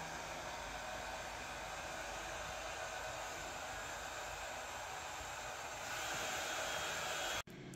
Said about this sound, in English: using my hairdryer